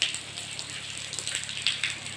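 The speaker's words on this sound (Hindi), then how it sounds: "क्योंकि बारिश बाहर बहुत तेज हो रही है" Heavy rain pours down outside, a steady close hiss broken by scattered, sharper drop patters on nearby surfaces.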